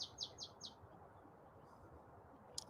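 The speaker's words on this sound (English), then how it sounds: "It's okay that birds are making a lot of noise." A quick run of four bright bird chirps opens the moment, then a pause over low outdoor background rumble before a single chirp returns near the end. The chirps are fairly close but soft.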